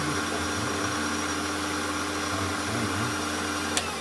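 A Chester DB7VS lathe runs flat out at maximum speed, giving a steady, continuous motor whine with a faint low hum and a brief click near the end, with no talking.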